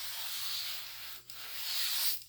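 Sandpaper rubs steadily over body filler on a model F-86 jet hatch, a close, continuous scratchy hiss with one brief pause midway and a short stop near the end.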